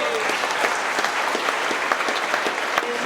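Sustained applause from an audience at a trucking company's monthly celebration, honoring the office staff, with dense clapping and a few louder individual claps throughout, steady and fairly near.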